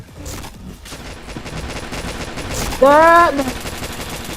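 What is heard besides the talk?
gunfire from a shooter video game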